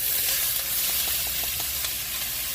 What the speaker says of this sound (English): Okay, pour all that meat in there.